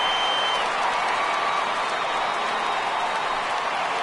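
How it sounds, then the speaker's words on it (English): Home crowd at a Hooks minor league baseball game giving a departing pitcher a steady ovation, dense sustained applause and cheering from a distance in the stands, with no break. "he receives a nice ovation from this home crowd"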